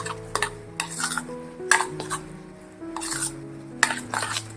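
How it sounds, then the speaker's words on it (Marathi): Spoon stirring ambe dal, a raw mango and chana dal dish, in a metal pot after the tempering is poured in, with repeated scraping clinks and soft sizzling through the stirring, close and fairly loud. "हे कालवून घ्यायचे"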